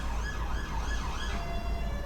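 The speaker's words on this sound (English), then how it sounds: "Ambulances are outside." An ambulance siren wails outside after a Leicester versus Manchester City football match, with a repeating rising-and-falling tone over distant road traffic rumble and no voices.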